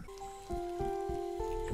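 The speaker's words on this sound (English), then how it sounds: "Doesn't the rain feel nice?" Steady rain falls in the video game Chicory: A Colorful Tale, a soft continuous patter under gentle sustained music tones.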